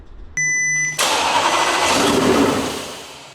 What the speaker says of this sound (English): this engine is able to start, considering there's no fuel lines fitted